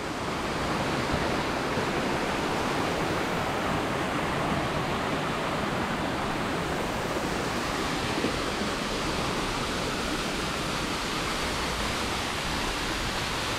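A waterfall near a bamboo bridge in Ubud, Bali roars steadily nearby, a dense, unbroken rushing wash of falling water with no pauses.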